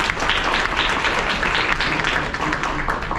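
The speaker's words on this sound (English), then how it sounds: "Give yourself a round of applause." A writers conference audience applauds themselves, a loud, dense wash of clapping that holds steady throughout with no break.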